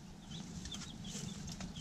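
Chickens with one possible rooster in a backyard cage in Baja, giving soft, close clucks and short calls over a steady low hum.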